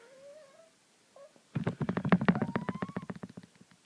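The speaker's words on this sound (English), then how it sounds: "And here's a cute cat." A cat gives a soft, rising meow and then a run of rapid, rhythmic purring or chirping pulses close by, lasting a couple of seconds before tapering off; no speech is heard.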